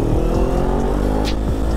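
Kawasaki Z400 motorcycle on its stock muffler, engine running loud and close with steady low rumble and a few quick revs rising and falling.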